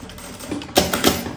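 A sewing machine stitches along the edge of a fabric pouch, a short burst of quick mechanical clatter that swells and grows louder near the end, up close with no talking.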